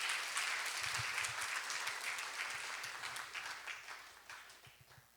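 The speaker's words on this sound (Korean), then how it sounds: "박수로 환영하도록 하겠습니다." A church congregation applauds in welcome during a Friday evangelism school service, a steady crowd of many clapping hands that carries on throughout and gradually fades toward the end.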